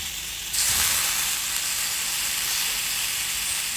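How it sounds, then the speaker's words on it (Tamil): Steady sizzling of tomatoes sautéing in a hot pan, a burst of hiss starting early and continuing evenly, close and fairly loud, with no talking. "தக்காளியும் இதுல வதக்கி விடுங்க."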